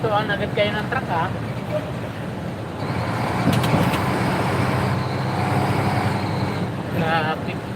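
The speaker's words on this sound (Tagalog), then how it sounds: "Traffic." Steady road traffic rumbles around a truck, a dense continuous roar of passing vehicles and engine noise with voices faintly mixed in.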